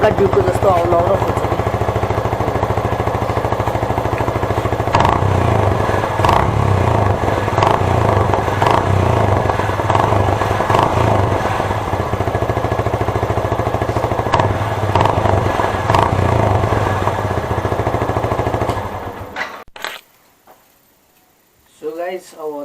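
A Yamaha FZS V3 motorcycle with a modified exhaust idles and revs loudly and steadily up close, with repeated throttle blips, before cutting off near the end.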